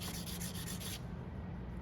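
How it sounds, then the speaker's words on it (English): Sanding stick smoothing the pinched cut ends of jewelry earwire, a brief close gritty rubbing of a few quick strokes that stops partway through. "we're gonna take our sanding stick and we're gonna remove that"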